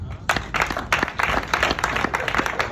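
Applause from a comedy club crowd, a burst of many hands clapping that starts abruptly and carries on briskly, loud and close, with a few sharper individual claps standing out.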